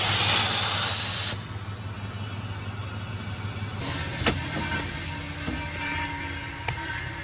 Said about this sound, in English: we'll put air through the air dryer, and that will air up the system, let us release the brakes